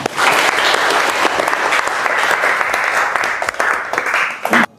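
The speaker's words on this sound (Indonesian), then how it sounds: "Tepuk tangan buat teman-teman semuanya" Loud, dense applause from university students in a classroom session, sustained clapping for nearly five seconds before cutting off abruptly at the end.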